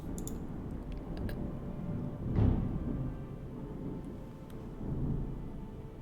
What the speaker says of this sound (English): There's a big storm brewing. It's just rolling through.